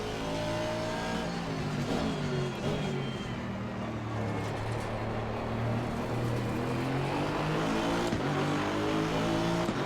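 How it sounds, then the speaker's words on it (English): A powerful Mercedes race car engine in a racing video game revs continuously and loudly, its pitch climbing and falling through gear changes across the whole stretch. "And that Mercedes has a lot of power"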